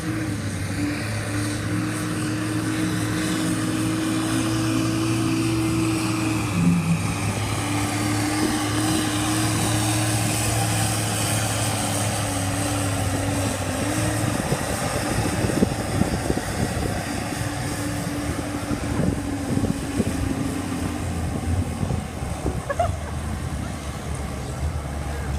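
An M100 tractor at a tractor pulling event in Riva presso Chieri drones loudly and steadily, holding a strong engine tone for many seconds before a rougher, gravelly pull takes over.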